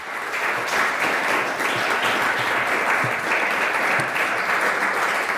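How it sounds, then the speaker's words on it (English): A seated crowd at an art auction breaks into steady, dense applause, many hands clapping at once in a full, even roar that holds at constant strength throughout, with no voices standing out. "I think that deserves a round of applause."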